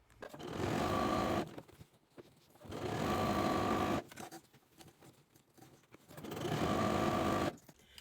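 Sewing machine stitching a tote bag made from a dish drying mat, running in three quick bursts of rapid whirring patter separated by short quiet pauses, close and clear.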